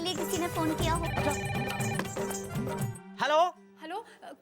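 A telephone rings in a cartoon household scene with repeating electronic ringtone tones over background music, followed by a short spoken exchange after the ringing stops.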